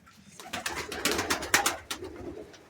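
Domestic pigeons coo softly in a loft, a few overlapping throaty calls rising and falling, fairly quiet and close.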